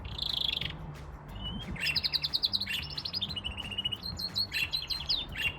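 Small birds at a mini zoo in Denmark chirp and tweet busily throughout, overlapping high calls in quick bursts over a low background rumble, with no talking.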